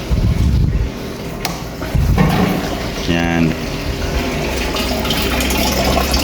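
Water drains out of a plastic drum used for raising catfish, a running, gushing flow heard under someone talking, with a few knocks and a brief buzzing hum partway through.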